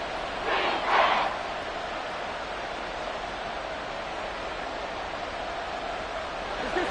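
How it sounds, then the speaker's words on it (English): The crowd at Arrowhead Stadium roars during a football game, a dense, continuous wash of cheering that swells briefly near the start and then holds steady and loud. "The Arrowhead crowd in full roar."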